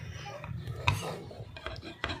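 A utensil scrapes and clinks against a bowl as cream is stirred for a no-bake fudge bar cake, soft and close, with faint scattered knocks and no clear talk.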